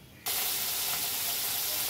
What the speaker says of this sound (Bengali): আর এখানে শুটকি মাছগুলো ভেজে নেব